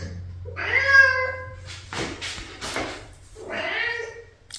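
A tired domestic cat meows indoors, with a long drawn-out meow near the start and another near the end, close and clear. Someone speaks softly in between.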